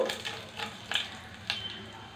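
Soft sizzle of hot oil tempering with dried red chilies and chana dal, with a few sharp scraping clinks of a spoon against the pan, close and moderately quiet.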